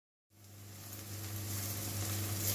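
Bell pepper and onion hit the hot oil in a cooking pot after a moment of silence, and a steady close sizzle builds and holds.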